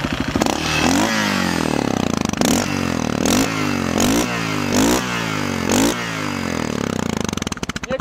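A Yamaha TTR600 motorcycle, long unused, runs close by with a loud, rough engine note, repeatedly revved in short regular bursts that rise and fall about every second over a clattering idle.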